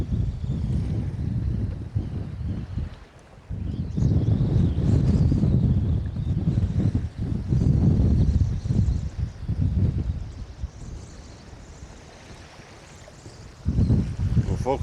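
Strong storm wind buffets a small boat at sea, a heavy, roaring rumble that surges and eases in gusts, with a voice briefly heard.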